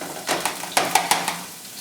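Green onions in extra virgin olive oil in a stir fry pan, a soft sizzle punctuated by several sharp clinks and taps of utensils against the pan, close by with no talking.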